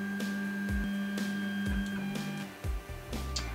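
A Creality Ender 3 3D printer homing toward its Z end stop: steady stepper-motor whine with tonal hums, punctuated by several short descending motor sweeps and soft clicks near the end, quiet and close, no speech.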